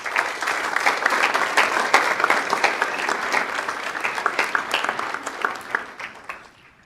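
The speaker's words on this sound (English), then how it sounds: "let's share in their success once more by giving them another round of applause." An audience claps for graduates at a Canine Companions graduation ceremony, dense sustained applause with many individual claps audible, fairly close and loud, tapering slightly toward the end.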